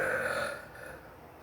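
A single drawn-out belch indoors at home, close and fairly loud, fading over about a second with no talking.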